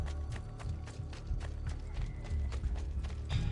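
Horse hooves clip-clopping at a quick gait in Assassin's Creed II, a steady run of repeated thuds under faint game ambience.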